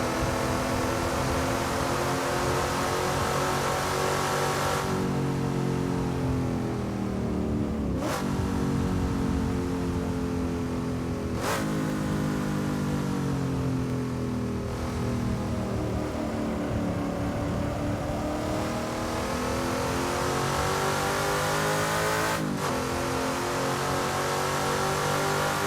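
Race car engine in the Assetto Corsa driving game, revving hard and continuously with rising and falling pitch, sharp gear shifts every few seconds, loud and sustained throughout.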